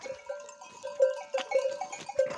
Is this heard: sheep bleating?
yes